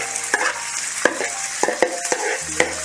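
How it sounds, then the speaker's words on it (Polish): Chopped onion fried together with chicken breast in a pan for a chicken korma: steady close sizzling with repeated scraping and stirring clatters of a utensil against the pan, no talking. "Dlatego to wszystko ląduje na patelni. I to oczywiście musimy podsmażyć na fajny kolorek."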